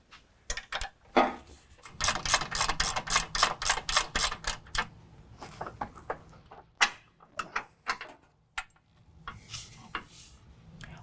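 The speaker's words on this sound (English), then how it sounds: "remove the bolt that holds the shock of the upper shock mount using an 18mm" A ratchet wrench with an 18mm socket works the upper shock mount bolt on a 2018 Jeep JL 2-door, giving bursts of rapid clicking and short metallic ratcheting strokes separated by brief pauses.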